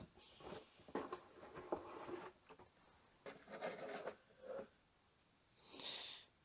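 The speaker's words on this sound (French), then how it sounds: "Alors, on va procéder à l'ouverture de ce kit." Cardboard rubs and scrapes softly as a Gunpla HGAC Maganac model kit box is opened, with faint, intermittent handling sounds and a brief brighter rustle near the end.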